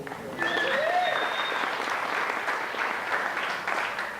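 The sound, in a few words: audience applause at a wedding toast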